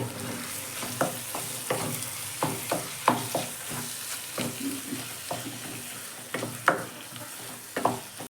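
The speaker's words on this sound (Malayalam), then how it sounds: "അതിലോട്ട് ബീഫ് ഇട്ട് കൊടുക്കാം നമുക്ക് നന്നായി ഇളക്കി കൊടുക്കാം" Beef frying in masala while a spatula stirs it, producing a steady close sizzle broken by frequent knocking scrapes against the pan in an uneven rhythm, with no talking.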